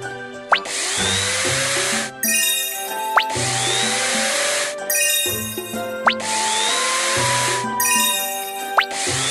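Cartoon sound effect of a tool tightening screws: four repeated whirring, buzzing bursts, each opening with a bright ding or jingle, loud and close, set against a musical children's-game backdrop.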